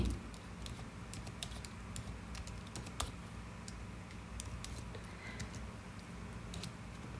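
Quiet, rapid keystrokes on a computer keyboard while code is typed, irregular clicks in bursts over a faint steady background hum.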